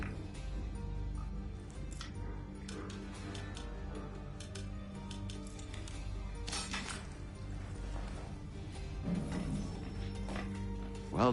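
A lock is picked in the video game Assassin's Creed 3, with steady mechanical clicking, ratcheting and small metallic clinks running under in-game background sound and music.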